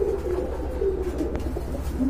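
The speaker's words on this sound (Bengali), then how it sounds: "চমৎকার এক জোড়া কবুতর।" Pigeons at a pigeon market coo in repeated low, throaty calls, close and fairly loud over a steady low hum, with no talking.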